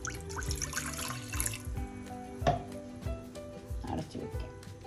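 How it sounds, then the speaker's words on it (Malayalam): Water runs into a cooking pot on the stove for pasta, a soft, broken splashing mixed with clinks and knocks of kitchenware, fairly quiet and close. "പാസ്ത വേവുന്നതിന് ആവശ്യമുള്ള വെള്ളം ഒഴിക്കാം."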